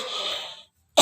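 A single harsh cough from a person, loud and close, followed by a short silence and the sharp onset of another cough or throat noise at the end.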